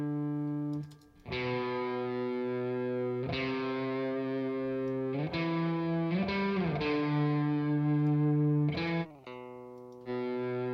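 Electric guitar chords and single notes ring through a plugin amp, with a splashy spring reverb tail lingering after each strum; no voices.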